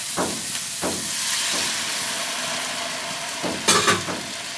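Water poured from a bowl into a hot pan of fish-egg curry, giving a steady loud sizzle and hiss with a few sharp spits and crackles, strongest near the end.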